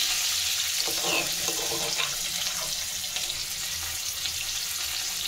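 Crushed onion and garlic hit hot oil in a pan, giving a steady, loud sizzle and crackle that fills the whole stretch without talk.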